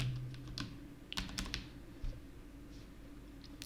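Close keyboard typing as a team name is entered for an eFootball 2024 game, a quick irregular run of sharp key clicks, fairly quiet and with no talking.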